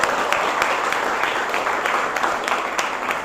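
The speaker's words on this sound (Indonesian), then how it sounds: "tepuk tangan untuk kita semua" A classroom group claps together in sustained applause after a statistics lesson, a dense, steady patter of many hands lasting the whole stretch without a break, fairly loud and close.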